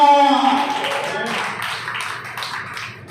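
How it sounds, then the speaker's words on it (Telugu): A church congregation at Calvary Prayer Church in Chirala breaks into applause during a Sunday sermon. A voice is heard briefly at the start, then a steady wash of many hands clapping continues for a few seconds. "చప్పట్లు దేవునికి మహిమ కలుగును గాక"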